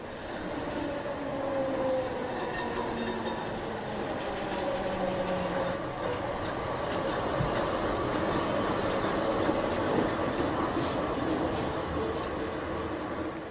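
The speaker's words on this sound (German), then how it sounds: "Unser Museumszug fährt nach Leipzig-Möckern." An old GDR-era articulated museum tram rolls through Leipzig toward Möckern, giving a steady loud rumble of wheels on rails with faint sustained squealing tones throughout, and no talk.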